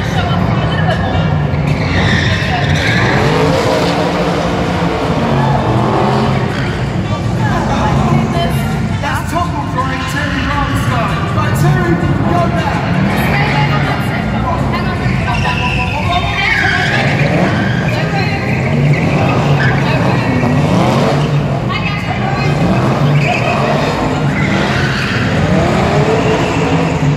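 Car tires squeal and skid without a break at an auto show, with engine roar mixed in. The noise stays loud the whole time, and people talk and shout over it.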